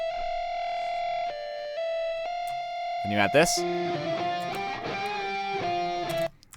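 A sustained electric guitar melody plays with a doubled, layered tone, and a thicker stacked part joins partway through; a voice briefly speaks over it.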